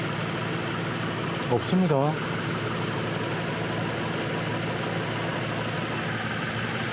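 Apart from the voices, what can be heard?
car engine idling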